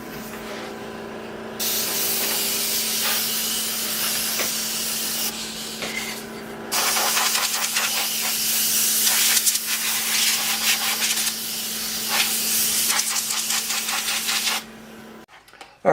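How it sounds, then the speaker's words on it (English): Airbrush used as an air blower gives a loud, steady broadband hiss that runs almost continuously, briefly dipping once and then cutting off near the end, with a low hum underneath. "our airbrush makes a great little air blower"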